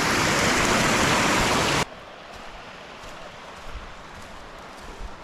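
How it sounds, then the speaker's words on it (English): A small waterfall on a forest creek along the Black Forest Trail in Pennsylvania roars as a loud, dense hiss, then drops abruptly to a much quieter, distant trickle. "Just a little waterfall."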